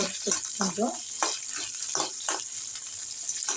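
Green chilies sautéing in a pan for a citron leaf chutney, giving a steady close sizzle with scattered stirring clatters and brief utensil scrapes throughout.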